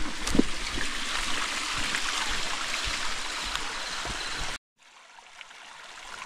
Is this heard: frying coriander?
no